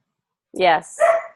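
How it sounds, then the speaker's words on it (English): A pet dog barks indoors, two close, loud barks in quick succession that break an otherwise silent room. "that's my dog barking"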